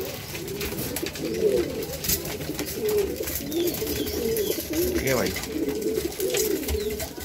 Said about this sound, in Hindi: कितने भी कबूतर उड़े थे सब आ गए भाई